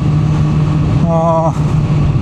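A group of five motorcycles, three touring bikes and two naked bikes, idle with a steady low engine rumble close by while someone talks over the noise.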